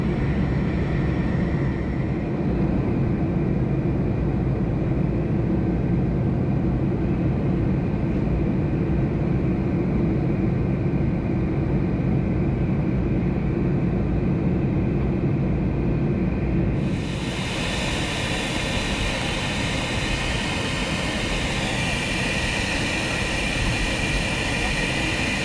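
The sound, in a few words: Air Inuit Boeing 737-200 airplane in flight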